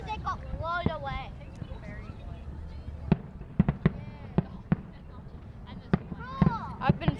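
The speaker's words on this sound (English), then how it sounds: "That's smoke from the fireworks." Australia Day fireworks over Perth: a string of sharp, distant bangs and crackling pops, some spaced and some in quick pairs, with people talking and calling out close by throughout.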